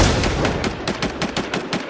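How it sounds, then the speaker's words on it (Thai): Rapid gunfire from a PVP shooter video game on the Clearview map, a steady run of loud, sharp shots repeating about every fifth of a second for the whole stretch, with no talk over it. "ยิงตรงนี้แตง"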